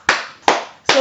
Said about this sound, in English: Let's clap for Jesus. Make sure you're clapping for Jesus.